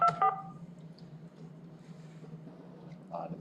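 A short burst of telephone dialing tones opens a speakerphone call-in during a school board meeting, clear at first, then fading into a low, steady hum of room noise.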